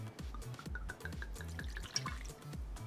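Boyd & Blair 151 proof vodka glugs from the bottle into a glass in a quick series of rhythmic, close liquid pulses, alone and fairly quiet.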